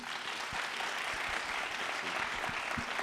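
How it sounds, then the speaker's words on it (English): Audience at a synthetic biology festival applauding a speaker, a dense steady wash of many hands clapping at moderate distance, filling the whole moment with no voices on top. "big round of applause for Eric"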